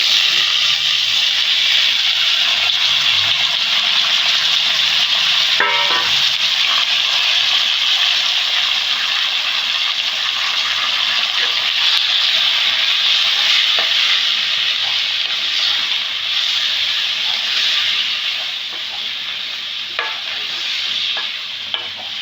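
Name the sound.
ash gourd with salt and turmeric frying in a pan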